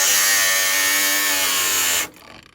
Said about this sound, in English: My Harbor Freight angle grinder just pooped out on me.